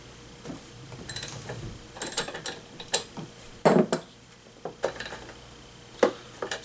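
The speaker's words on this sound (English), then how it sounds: "Now we take our socket wrench here and go ahead and pull out our spark plug." A socket wrench ratchet loosening the spark plug on a Ryobi leaf blower: scattered short bursts of metallic clicking and tool clinks, close by, separated by brief pauses, with no speech.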